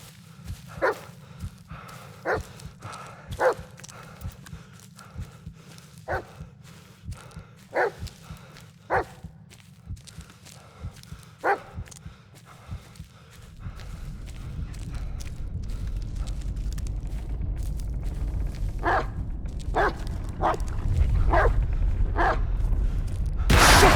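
A dog named Bullet barks in the horror game Blair Witch, with sharp single barks at intervals over a low hum, then a faster cluster of barks near the end against a rising rumbling background.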